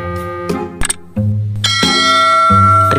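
A bright notification bell sound effect rings in several sustained, resonant chime strikes, loud and alone with no talk.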